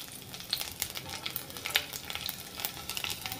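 Chana dal frying in a hot pan with garlic cloves and a piece of ginger just added, giving a faint, steady sizzle with scattered crackles and pops, no voices.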